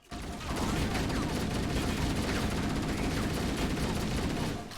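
Rapid automatic gunfire in the video game Halo CE, a dense continuous barrage of shots that stays loud for nearly five seconds with no pause.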